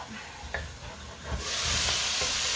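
A cooking pot pie filling gives off a soft bubbling and faint stirring that rises into a loud, steady hiss of steam for the final second.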